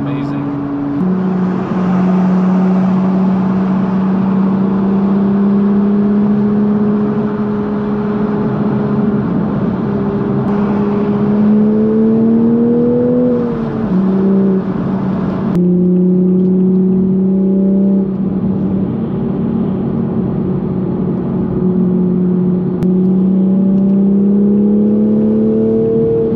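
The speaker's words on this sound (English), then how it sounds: "I don't know if you can hear the exhaust not through the window like I can" A steady engine and exhaust drone heard from inside a moving manual-transmission Toyota Supra A90 sports car, with a low hum shifting in pitch as it accelerates; talk occurs over it.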